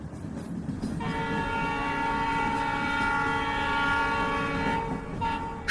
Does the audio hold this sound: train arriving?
yes